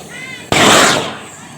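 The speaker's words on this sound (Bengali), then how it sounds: "এবার আমরা হাইড্রোজেন বেলুনে আগুন ধরে দেব।" Hydrogen balloon set alight, a sudden loud whooshing pop that flares into a roaring burst of flame lasting about half a second before fading.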